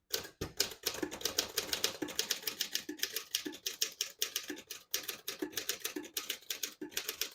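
Dense, rapid keystrokes clatter on a 1928 Underwood Four Bank portable typewriter with glass keys and chrome rims, sharp close metallic strikes in an uneven steady rhythm with no voices.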